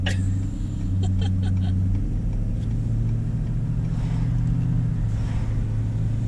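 Cars driving past on a road in wintry Colorado, a steady, fairly loud low engine rumble that swells slightly as the vehicles go by, with no talking.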